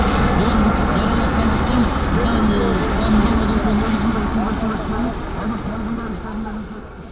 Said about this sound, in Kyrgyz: Андан соң тик учак жерге конуп,